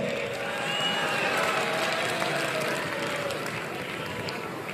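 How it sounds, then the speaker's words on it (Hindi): At a Rahul Gandhi rally in Panipat, a crowd claps and cheers in a steady, dense wash of applause that holds at an even level for several seconds. "ताली बजा रहे हो भैया"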